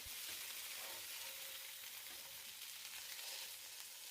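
Minced lamb and potatoes fry steadily in a skillet, a dense close sizzle with light scraping as a spoon turns them, no voices.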